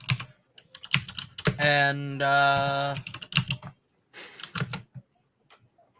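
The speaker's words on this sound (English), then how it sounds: "Those are some chunky keys." Loud, chunky mechanical keyboard keys clacking in quick irregular bursts, with a sustained tonal tone rising in the middle and a brief spoken word near the start.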